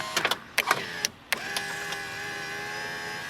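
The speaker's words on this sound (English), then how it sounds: "you see this power window goes down just fine" Power window motor on a 1997-2001 Jeep Cherokee XJ lowering the glass: a few sharp clicks and knocks at first, then a steady whirring motor hum that runs on alone at close range.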